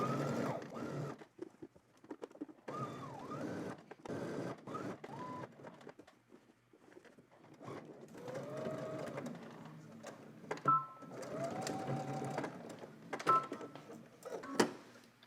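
A sewing machine stitching the collar of a jumpsuit from the Simplicity S9822 pattern, running in quiet whirring bursts with brief stops and small clicks. The mechanical sound stays faint and fairly distant throughout.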